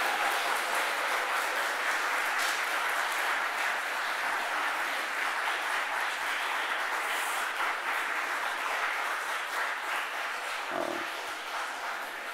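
A church congregation gives a long round of applause during a Sunday afternoon service, a bright, continuous clatter of many hands that stays even and full throughout, with no voices over it.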